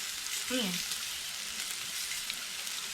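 Pork sizzles steadily on a hot grill pan, a continuous crackling hiss close up, with a brief faint voice-like sound early on.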